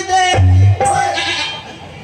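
A goat bleats loudly and close at a comedy stage show, one strong wavering call followed by a shorter one, with people's voices around it.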